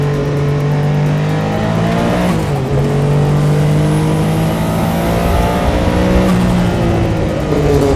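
A Le Mans-winning Porsche 962 race car engine roars loud and close, revving and accelerating steadily with rising and falling pitch throughout, with no talking.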